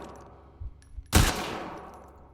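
A loud single gunshot in The Last of Us Part 2, a sharp blast followed by a decaying echoing tail, preceded by a couple of dull thuds.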